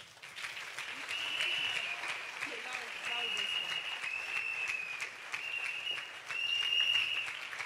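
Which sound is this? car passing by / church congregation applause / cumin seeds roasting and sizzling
church congregation applause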